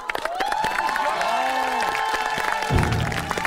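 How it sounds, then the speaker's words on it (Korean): A group of people claps and cheers during an Olympic-themed game on a Korean variety show, a lively burst of clapping mixed with excited shouts and loud voices close by. "야, 박수 한번 주자!"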